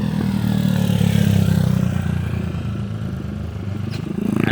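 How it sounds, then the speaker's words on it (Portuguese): A motorcycle engine rumbles close by and fades slightly as it passes along a street, loud and steady with no talking over it. "deixa a moto passar, deixa a moto passar."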